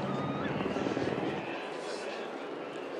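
Helicopter rotor drone hovering over a Crankworx mountain bike slopestyle event in Whistler, Canada, a steady broadband whir that stays loud and constant, with a commentator talking over it.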